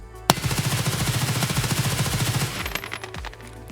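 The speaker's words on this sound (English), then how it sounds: "Let's see that full auto" A full-auto HK rifle in Escape From Tarkov fires one loud, sustained burst of rapid, evenly spaced shots for about two seconds, followed by a few scattered, echoing tails.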